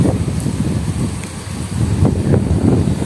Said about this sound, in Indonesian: angin ini kenceng ya kita bisa lihat bendera-benderanya itu kencang